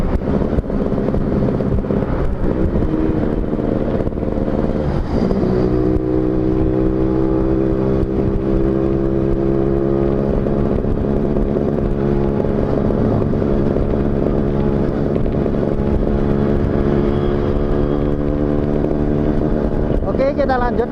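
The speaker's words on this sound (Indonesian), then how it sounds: "pasang di motorku ini, suaranya tidak begitu nyaring atau ngencring" Motorcycle engine fitted with a stock-style RC exhaust, revving up and holding a steady droning tone with buzzing harmonics, loud and close for about twenty seconds with wind buffeting and someone talking over it.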